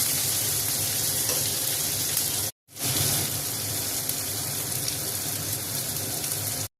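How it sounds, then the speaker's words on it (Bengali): Chopped tomato sizzling loudly in hot tempering oil for moong dal, a dense continuous crackle close by that cuts out briefly and then resumes, with no voices. "ফোড়নের মধ্যে প্রথমে টমেটো কুচিটা দিয়ে দিলাম।"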